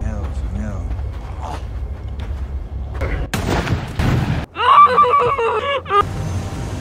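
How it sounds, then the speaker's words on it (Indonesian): Gunshots ring out in a cartel thriller film scene: a couple of sharp, loud bursts cut through a dark, tense soundtrack while a narrator keeps talking over them. "mau nggak mau Miguel pun akhirnya menembak Alejandro"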